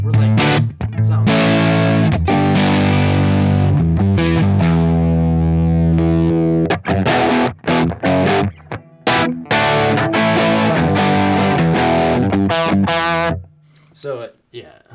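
Electric guitar through a boost pedal, distorted chords and riffs ringing loud and sustained, with brief gaps and a quiet tail at the end.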